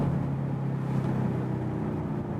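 Ford Mustang with a 2.3 l turbo engine running at raised revs, a steady droning hum held at a fairly even pitch, heard from inside the car at moderate volume without talk.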